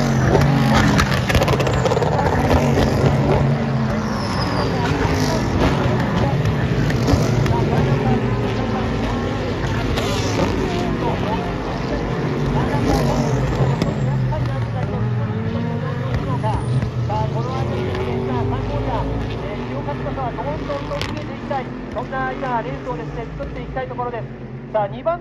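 Super GT race cars, including a Toyota GR Supra and the No. 23 Motul Autech Z, run at Motegi in the 2023 Round 8 race start. Steady engine roar continues throughout under continuous commentator talk.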